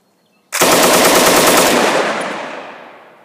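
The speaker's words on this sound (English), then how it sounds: "testing out the Colt monitor today." A Colt Monitor machine gun fitted with a Cutts compensator fires one sustained, loud, close burst that starts abruptly after a brief silence and rings out in a long fading roar.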